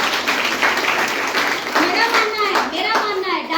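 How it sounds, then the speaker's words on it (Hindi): Audience clapping steadily at a business presentation, dense and close, with voices and a child's speech mixed in over the applause. "ताली बजा दीजिए।"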